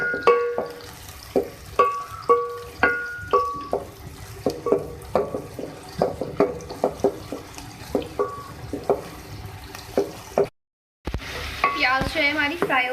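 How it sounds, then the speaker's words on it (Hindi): Onions fry in oil for a spinach and beef curry, a steady sizzle under repeated scraping stirs of a spoon against the pan in a regular rhythm, close and fairly loud, with a brief cut near the end. "प्याज को फ्राई कर लें ऑयल में।"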